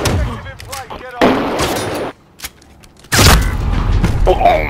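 Video game gunfire with loud bursts of shots, including a juggernaut-style heavy weapon, crackling in dense clusters near the start and again loudly in the final second and a half, with a short quiet gap between.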